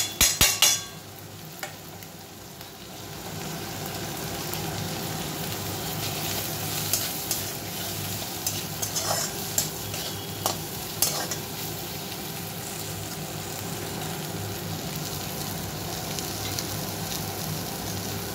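Ginger spice paste and chopped tomato fry in hot oil for a Bengali egg curry, a steady sizzle throughout with a few sharp utensil clacks at the start and occasional stirring scrapes.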